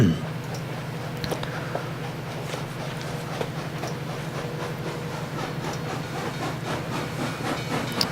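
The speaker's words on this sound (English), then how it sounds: "Sounds like the train's coming." A train approaches a platform, rumbling steadily with a rhythmic clatter of wheels over rail joints, continuous and fairly loud throughout.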